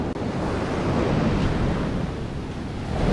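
Big ocean waves crashing on a beach in Sri Lanka, a continuous loud roar of surf with wind buffeting the microphone, no speech.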